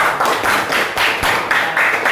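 Clapping from a classroom audience during a teaching session, a loud burst of hands patting in uneven rhythm, close and alone with no voices.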